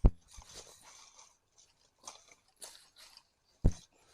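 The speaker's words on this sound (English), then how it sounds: "The crunch of that bark." Tree bark crunches underfoot on a mountain trail, a few scattered dry crackling steps close to the microphone with quiet gaps between them.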